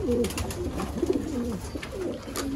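Sialkoti pigeons coo softly and repeatedly up close, low burbling calls over a continuous background hum.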